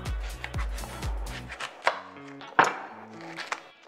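A knife trims the end of an onion on a cutting board, giving a few distinct sharp chopping knocks spaced across the moment, close and fairly clear with no talking.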